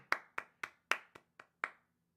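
One person claps seven separate times in a slow, slightly uneven rhythm. The claps are close and sharp, with quiet gaps between them.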